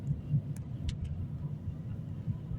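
Car driving through a winter storm on snowy, slippery roads, a steady low engine and road rumble throughout, with a few brief faint higher clicks.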